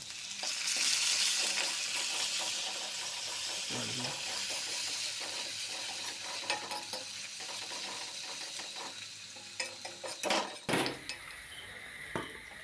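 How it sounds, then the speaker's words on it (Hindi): Chopped tomatoes fry in a pan with garlic-ginger paste for an egg and potato curry, a steady close sizzle with occasional stirring and scraping clatter, no talking. "तो अच्छे से उसको भूनना है।"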